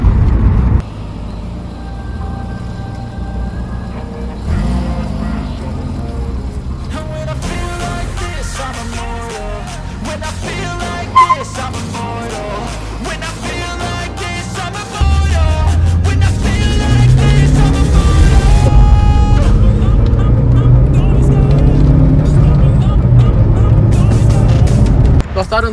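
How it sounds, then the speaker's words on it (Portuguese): A VW Golf GTI MK4 turbo engine droning from inside the car while driving, rising and building in intensity with road noise, louder in the second half, with a voice talking over it. "para você escutar o barulho da pressurização, o carro pressurizando, o carro desenvolvendo."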